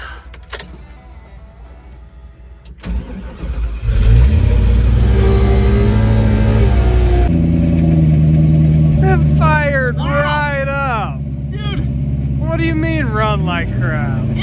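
A diesel truck after a cold start, its engine idling roughly then revving hard in a loud sustained roar, close by, with a high whining tone rising and falling over the running engine.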